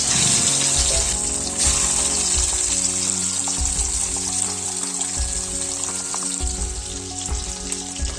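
Pabda fish sizzling and crackling in hot oil in a pan, a steady loud frying hiss with occasional stirring and water-like splashes, no voices.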